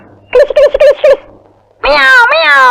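A cat meows loudly and drawn-out right after a quick burst of human voice, sounding close and clear.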